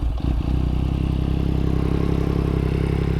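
A 2021 Yamaha MT-09 fitted with an Akrapovic exhaust idles close by, a steady, loud, evenly pulsing burble after a brief stumble at the start.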